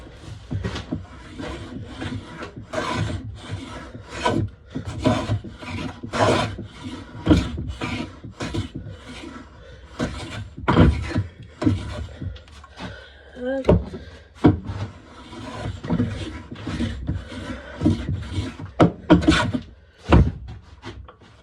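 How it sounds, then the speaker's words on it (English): Hand plane shaving thin curls from a wooden mallet held in a vise, heard as a series of sharp rasping strokes in steady rhythm, close and fairly loud, with brief pauses between passes. "Run the planer along it. Nice thin shavings again."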